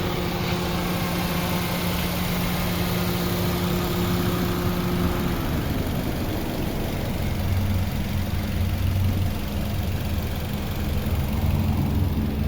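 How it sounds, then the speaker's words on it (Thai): A Toyota Corolla Altis 1.8 G VVT-i engine idles steadily up close, a constant mechanical hum and rumble whose low tone shifts slightly partway through. "ฟังเสียงเครื่องยนต์กันก่อนนะครับ"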